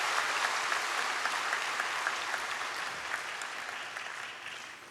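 Steady applause from a church congregation during a Sunday service, a dense wash of many hands clapping, moderately distant and even, tapering slightly toward the end.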